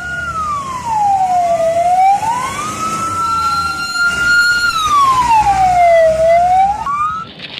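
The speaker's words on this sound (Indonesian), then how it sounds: "lihat ada mobil pemadam kebakaran" Toy fire truck siren wailing up and down in long smooth sweeps, loud and close, rising and falling twice over several seconds with a faint electronic harmonic above, no talk.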